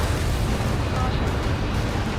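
A destroyed target explodes in the Ace Combat 7 flight combat game, a continuous loud roaring blast with deep rumble filling the whole stretch without pause.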